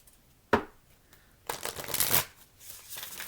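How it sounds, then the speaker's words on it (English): Cards shuffled up close: a sharp tap, then a brief pause, then a fuller riffling flutter that swells and fades, with lighter rustling afterward. "need to give this a good shuffle"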